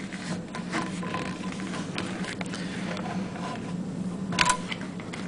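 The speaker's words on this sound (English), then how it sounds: "As you're turning the hand wheel, the inner foot always stays on the fabric in place while the outer foot feeds the fabric" Hand wheel turned on a TuffSew industrial portable walking foot sewing machine, producing soft, repeated mechanical clicking and light patter from the feet moving, with a faint steady background hum and a slightly louder click near the end.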